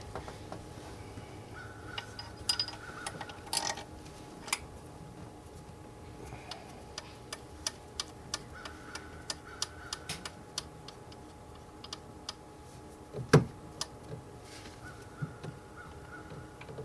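A ratchet tightening the two 13mm bolts that clamp the turbo to its pedestal on a 7.3 Power Stroke, sparse light clicks scattered at irregular intervals with one louder metallic clunk near the end.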